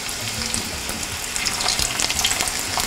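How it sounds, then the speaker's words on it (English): Ground beef taquitos fry in shallow oil, giving a continuous crackling sizzle with scattered pops that grows a little busier toward the end, close and with no voices. "So that is basically how you fry these up in oil."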